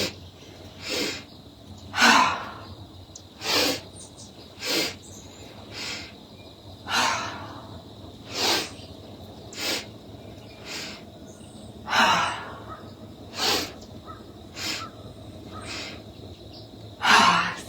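Forceful breath-of-joy yoga exhalations, a series of about a dozen sharp, rhythmic breathy bursts spaced a second or two apart, close and clear over a steady faint background hum.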